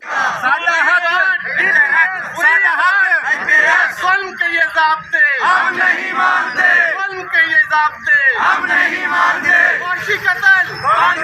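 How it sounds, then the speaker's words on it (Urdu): Campus employees protesting on the street chant slogans in loud, rhythmic bursts of many voices shouting together, with short pauses between repeated phrases. "احتجاجی مظاہرین نے اپنے مطالبات کے حق میں شدید نعرے بازی بھی کی"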